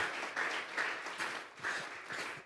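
A church congregation claps and applauds in waves of loud, rapid clapping that swells and fades several times, heard alone without talk.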